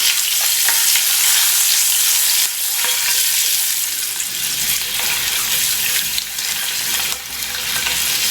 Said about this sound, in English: and then I'm going to add these eggs, and then we're going to fry it.